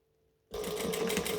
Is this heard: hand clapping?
no